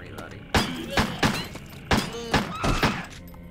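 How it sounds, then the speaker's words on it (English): Gun reloading in the video game Crow Country: a run of distinct mechanical clacks and thunks, about six sharp hits spaced irregularly over a quiet background, each with a brief metallic ring. "Damn, reloading."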